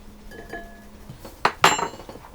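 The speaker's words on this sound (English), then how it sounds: "I'll give them a stir around to combine them a bit" Flour and corn flour being stirred together in a bowl with a utensil for a paradise cake, heard as a few light scrapes and two sharp clinks against the bowl, close.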